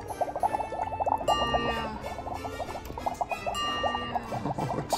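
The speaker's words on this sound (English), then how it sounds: "we're just gonna mix half Hawaiian Punch and half Sprite right now" Hawaiian Punch and Sprite pour over ice into a cup and fizz with a bubbly, crackling patter, steady and close, continuing for several seconds without talk.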